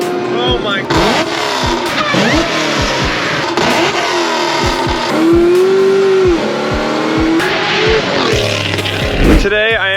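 A 750whp LSA supercharged 2014 Chevy SS accelerates hard and loud, its engine note climbing through repeated rising pulls with gear-change breaks in between, while excited voices shout over it.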